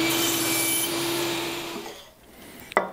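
Hand sawing a 45-degree angle cut in wood for the feet of a banana hanger, a steady rasping stroke that fades out, ending in a sharp click, close and alone.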